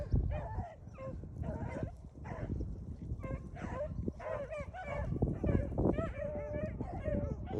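A pack of beagles bays and yips while running cottontail rabbits outdoors in high wind, with overlapping, fairly loud cries arriving in continuous irregular bursts throughout.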